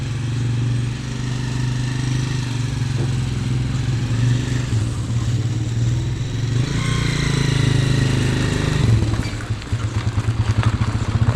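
A Ford Ranger pickup truck's engine runs steadily with a low rumbling idle and clattering, rising in intensity near the end with a faint revving surge, loud and close with no talking.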